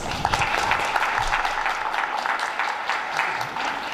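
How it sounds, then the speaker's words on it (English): An audience at a youth indaba event gives a sustained round of applause on a rainy day, dense and steady clapping from many hands throughout, with faint voices mixed in. "we should really give ourselves a round of applause"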